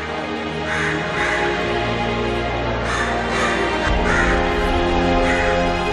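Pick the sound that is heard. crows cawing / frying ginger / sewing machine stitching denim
crows cawing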